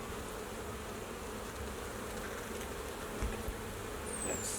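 A honeybee swarm buzzes steadily at a flow hive, a dense, continuous close drone with no voices over it.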